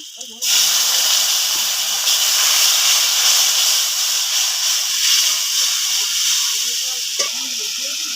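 Water poured into a pan of hot fried ground garam masala paste bursts into a loud, steady hiss and sizzle that starts abruptly and continues for several seconds, close up.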